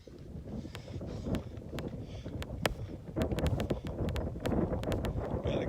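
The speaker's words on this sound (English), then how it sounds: "Got a gust of wind here, we'll wait for it to die." A gust of wind buffets the microphone outdoors at a shooting range, a low rumbling roar that builds and swells, with sharp clicks and snaps scattered over it.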